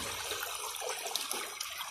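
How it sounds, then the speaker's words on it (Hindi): Water pours steadily out of a village Persian wheel, a dense, continuous rushing and splashing at close range with no pauses. "आप सोच सकते हैं कि एक गद्दे की मदद से इतना पानी निकल रहा है।"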